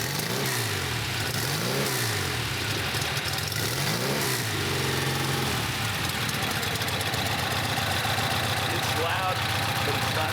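Porsche 356 engine fitted with a Sport 2 muffler and S-Pikes, revving loudly and continuously up close, with rising and falling pitch sweeps in the first half and a steady throaty roar after.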